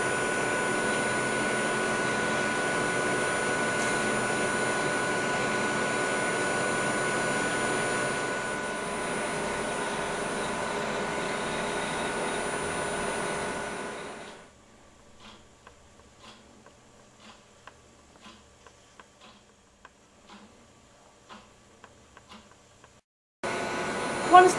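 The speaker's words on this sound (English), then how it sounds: "The final step in the sample excitainer preparation is to evacuate them on a vacuum line for 1 hour." A laboratory vacuum line evacuating sample exetainers for carbon-isotope DIC analysis gives a steady, droning hum with a faint whine, then cuts off, leaving near silence with a few small clicks.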